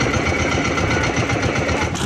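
A boat's marine engine runs steadily and loud, a continuous mechanical drone with a fast rhythmic throb, close up, on a small fishing boat at sea in windy conditions, with no talking over it.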